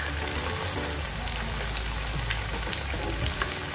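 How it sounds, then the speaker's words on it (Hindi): Veg manchurian balls frying in oil on a low flame, a dense, even sizzle and crackle that stays constant and close throughout, with no talking. "लो फ्लेम में ही आपको इसको फ्राई करना है"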